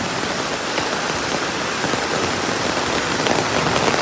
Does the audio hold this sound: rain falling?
yes